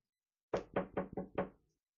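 Five sharp knocks on a door in a quick, uneven rhythm, close and loud in an otherwise quiet room.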